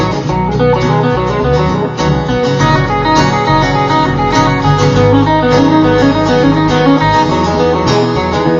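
Pentatonic guitar lick played at double speed, a dense, loud run of quick notes that continues steadily throughout, with no talking.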